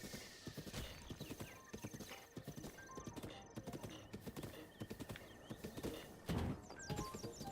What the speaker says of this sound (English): wait, no, a horse!